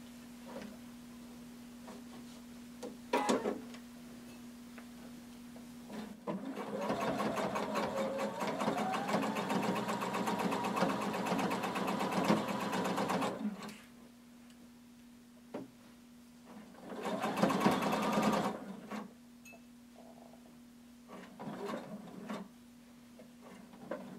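A sewing machine stitches a hooded tunic seam at regular stitch length, running in a long steady whirring burst and a shorter second one, with brief clicks and a faint constant hum in between.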